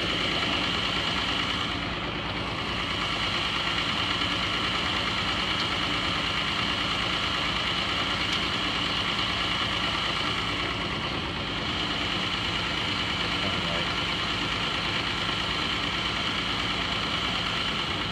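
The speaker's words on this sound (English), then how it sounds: "this engine has a regular miss" A Chrysler Slant-6 engine idles with a regular misfire, a continuous steady low rumble and vibration that holds level for the whole stretch, with no voices.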